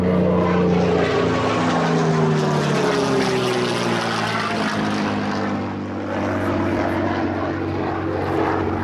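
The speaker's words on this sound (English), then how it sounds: "That engine sound is beautiful, isn't it? It's a Rolls-Royce V12 Merlin" A P-51 propeller fighter powered by a Rolls-Royce V12 Merlin engine passes overhead, its loud, steady droning roar filling the air and swelling and easing slightly as it flies by, with no one talking.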